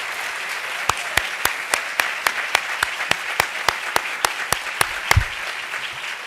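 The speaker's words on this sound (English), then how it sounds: "Can we please give them a round of applause for staying with us?" Sparse audience applause at a meeting, a few hands clapping in a slow, evenly spaced rhythm of distinct sharp claps, with a brief low thump near the end.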